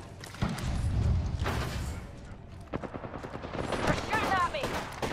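Video game gunfire in a squad shooter, bursts of rapid shots and thuds cracking over a busy battle mix, with a voice briefly heard.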